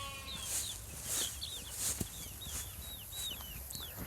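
Small chicks in a poultry enclosure give repeated high, short peeping calls throughout, with several birds overlapping at moderate distance over a steady low background hum.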